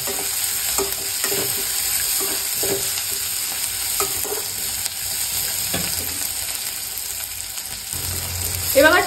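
Cinnamon, cloves and pepper sizzle in hot oil in a pan for chicken chops, under a steady hiss. A spoon scrapes and stirs in repeated strokes, and the sizzle flares louder at the end.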